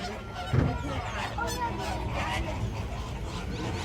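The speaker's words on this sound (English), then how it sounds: "the flamboyant flock, or greater flamingos" Greater flamingos at San Diego Zoo Safari Park call in a flock, giving honking, goose-like calls at moderate distance over steady crowd murmur and some voices.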